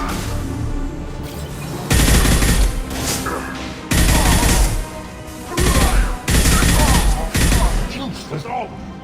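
Gunfire from the video game Mass Effect 2 comes in loud bursts: several heavy blasts and rapid volleys separated by short pauses, with game voices sometimes underneath.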